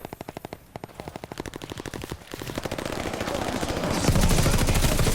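Rapid automatic gunfire in a Call of Duty: Vanguard match, dense bursts of closely spaced shots running continuously and swelling louder toward the end, with no talk over it.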